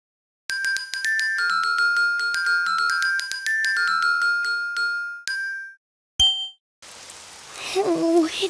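Rain falls outside in a Daniel Tiger cartoon scene, a soft wash of noise rising over the last couple of seconds after bright chiming musical tones and a sharp ding.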